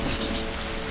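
Steady, dense rainfall from The Last of Us Remastered video game, a loud uniform hiss that fills the whole short moment without any break.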